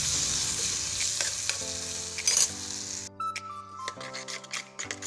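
Curry stirred in a frying pan, sizzling and frying steadily throughout, with scraping stir strokes and light clicks of the spoon against the pan, close and moderately loud, no talking.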